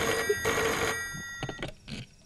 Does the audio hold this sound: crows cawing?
no